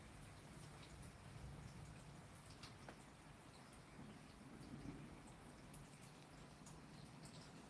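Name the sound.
thunder during a rainstorm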